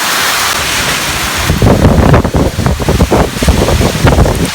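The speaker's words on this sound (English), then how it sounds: "The wind, let me hold on to something." Strong tropical storm wind batters George Town, Cayman, roaring loudly and steadily against the microphone, surging in heavy gusts midway and staying fierce throughout with no talking.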